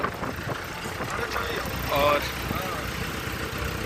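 KTM Duke motorcycle riding behind a modified open Jeep. A steady mid-pitched engine drone runs throughout with a brief swell, partly buried under loud, continuous talking.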